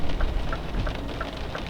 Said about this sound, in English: Lovely sound of the rain.